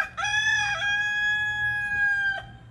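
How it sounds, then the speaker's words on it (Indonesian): A single long, clear crow from a chicken close by that sounds like a jungle fowl, rising sharply then holding a steady, drawn-out tone before cutting off. "Jadi ayam ini suaranya seperti ayam hutan"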